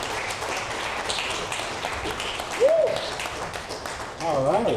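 An audience applauding poets at a spoken-word grand finale event, with a steady wash of clapping throughout and a few whistles rising above it near the end.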